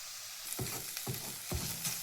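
Onions sizzle and crackle in a hot pan, with three scraping stirs at a regular pace over the constant frying hiss.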